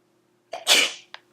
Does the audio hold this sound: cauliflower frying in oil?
no